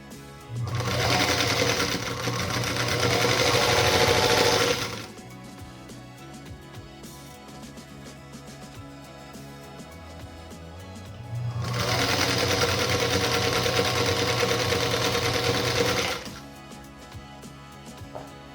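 Sewing machine chain piecing quilt block units for a mosaic star block, two long steady runs of about four seconds each separated by a quiet pause, close and clear without speech.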